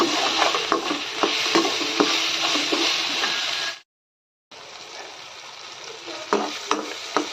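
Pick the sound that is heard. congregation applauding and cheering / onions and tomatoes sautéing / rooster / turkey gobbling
onions and tomatoes sautéing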